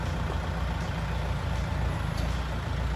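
A Kubota L4508DI four-wheel-drive tractor with a front blade and disc plough idles alone, its diesel engine giving a steady, low, even rumble throughout without breaks.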